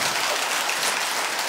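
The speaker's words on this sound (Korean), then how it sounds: "박수가 적어 보니까" A crowd at a Buddhist dharma talk applauds with dense, steady clapping that fills the whole moment, loud and even with no voices standing out.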